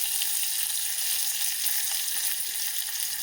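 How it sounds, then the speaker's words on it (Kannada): Dried red chillies and curry leaves sizzling in hot oil, a bright continuous crackling fry, close and steady, with no talking. "ಒಣಮೆಣಸಿನ್ಕಾಯಿ, ಕರಿಬೇವಿನ ಸೊಪ್ಪನ್ನ ಈಗ ಕೈಯಲ್ಲಿ ಮುರಿದು ಹಾಕೊಂಡ್ರೆ ಘಮ ಚೆನ್ನಾಗಿರುತ್ತೆ"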